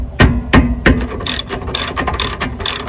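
A ratchet loosens the lower 17 mm rear caliper bolt on a Nissan Juke. Three loud, close clicks are followed by a rapid run of ratcheting clicks, alone with no talk.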